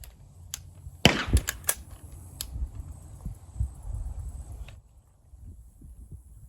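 A .22LR-converted AR-15 rifle, fitted with a CMMG conversion kit and fed CCI rounds, fires one sharp loud report at a range, followed by quieter scattered thumps and rumble.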